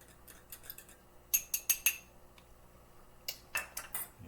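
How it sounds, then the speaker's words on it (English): Fork tapping and scraping against a dish while stirring melting food, a few quick clicks early, then a louder cluster of four sharp metallic clinks, and another burst near the end, close and with no speech. "give it a little stir with a fork and bring it the rest of the way"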